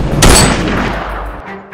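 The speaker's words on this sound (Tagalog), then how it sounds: "pagputok ng baril, pagkasa, tapos putok ulit ng baril." A gunshot rings out loud and close with a sharp blast and a booming tail, as a gun is fired, cocked and fired again in an aswang horror tale, the decay fading into quieter mechanical sounds.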